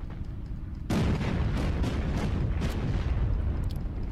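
Battleship guns and artillery in Battlestations Pacific open up in a sudden loud barrage, dense continuous booms and gunfire rolling on for several seconds after a quieter rumbling start.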